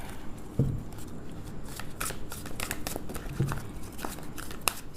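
A deck of oracle or angel cards being shuffled by hand, giving a run of soft papery riffles and flicks with a couple of heavier thumps, close and fairly quiet over a low room hum.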